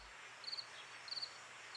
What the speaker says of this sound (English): Assassin bugs and a multitude of cricket species are out in force.